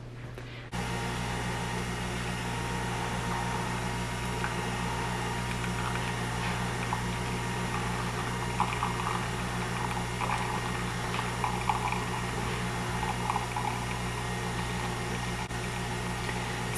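A Nespresso Vertuo Plus brews a double espresso, a steady mechanical hum and low whirr with faint gurgling liquid, constant and close after a brief quiet start.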